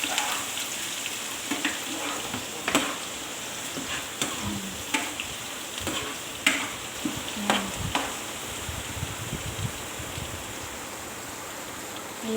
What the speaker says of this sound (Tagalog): Ito na po, ay gigisa ko na.